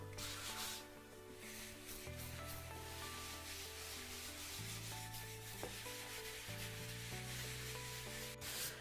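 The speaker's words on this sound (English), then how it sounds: "you can literally just rub it out with the block to get it relatively flat and smooth" A block is rubbed by hand over the third coat of a concrete countertop, a continuous soft abrasive grinding at steady level, with a faint tonal hum running underneath throughout.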